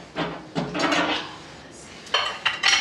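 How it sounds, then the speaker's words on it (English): A cup, plate and small dish are lifted out of a microwave with several loud clinks and clatters of crockery, close up and spread over a few seconds, with no talk. "And we'll take our cup of hot water out and the plate."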